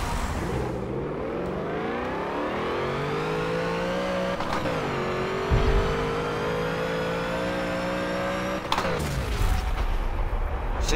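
A 900-horsepower Volkswagen Ghia drag car revs hard in Forza 7, its engine note climbing and holding loud and close, then snapping off and roaring again as the car launches.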